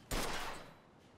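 A single sharp gunshot in Mafia 2, aimed at a gas tank, cracks out nearby and fades through a short, echoing tail, with no other sound around it.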